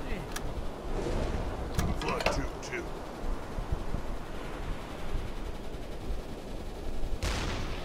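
Gunfire from a submarine in the naval game UBoat, sharp bursts of shots in the first few seconds and again near the end, over a constant roar of sea and wind noise.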